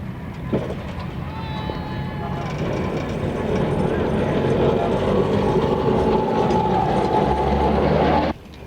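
A Calcutta tram runs along its line in 1980 archive film, giving a loud, continuous rumble and rattle of wheels on rails that holds steady before cutting off abruptly near the end.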